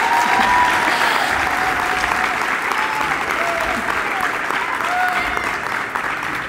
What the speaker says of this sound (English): Today we are very happy to be here to applaud and appreciate the outstanding athletic efforts of Mr. Aiden Lopez.